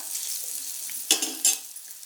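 Tempering spices fry crisply in a pan for majjiga pulusu, a buttermilk curry. A soft, continuous sizzle is broken by a couple of sharp crackles and scrapes, with no speech.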